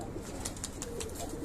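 Pigeons coo softly in the background of an outdoor loft, low muffled calls with a few faint chirps, heard at a distance with no talking.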